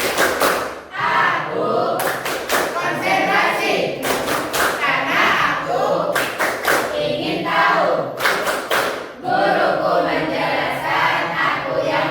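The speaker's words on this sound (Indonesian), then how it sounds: "Coba kita tepuk konsentrasi. Ayo semuanya, tepuk konsentrasi." Classroom of children doing a rhythmic concentration clapping game, sharp clap bursts in patterned groups alternating with the class chanting in unison, loud and close.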